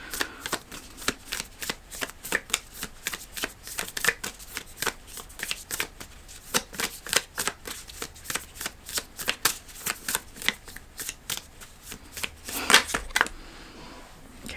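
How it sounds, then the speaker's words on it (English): A slightly sticky tarot deck is shuffled nearby in a long, even stream of rapid papery flicks and taps, continuing for many seconds and ending in a louder flurry. "let's pull some cards"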